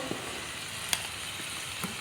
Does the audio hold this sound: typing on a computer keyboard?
no